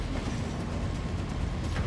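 Steady rumbling clatter of a train rolling along in a video game, continuous and fairly close with no voices over it.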